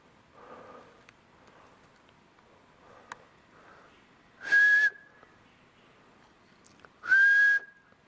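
Two loud breathy whistles with a rising tonal sweep ring out at a remote high-elevation spot under power lines where jays gather, separated by several seconds of faint rustling and soft clicks.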